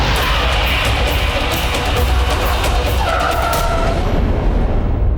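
A car skidding to a halt on a road, a loud, sustained broadband tire-and-engine rush lasting several seconds, with a brief higher squeal partway through before it eases off.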